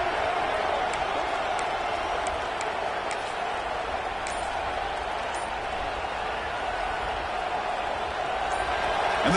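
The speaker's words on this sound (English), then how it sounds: "And the crowd coming to life here" A football stadium crowd at a Nebraska game roars in a broad, steady wash of noise, loud and continuous, with a commentator talking over it.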